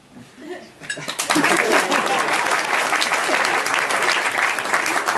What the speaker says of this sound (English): But applause is definitely welcome.